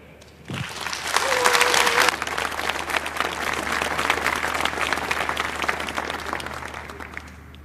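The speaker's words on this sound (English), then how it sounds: "Welcome now with a big round of applause" Audience at the 34C3 Chaos Communication Congress bursts into loud, sustained applause welcoming two speakers onto the stage, a dense wash of clapping that swells after a sharp start and holds steady throughout.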